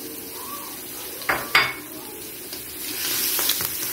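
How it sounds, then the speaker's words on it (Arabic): A garlic clove goes into hot oil in a pan: a couple of sharp clinks, then a soft frying hiss that swells into a steadier sizzle toward the end, close by and without speech. "هنحط الاول فص الثوم عشان يعمل ريحه وطشه في الزيت"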